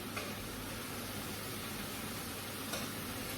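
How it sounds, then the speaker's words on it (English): Food sizzles steadily in leftover bacon fat in a pan, a constant hiss at low level with no pauses or talk. "that's also being fried in the same oil as the bacon"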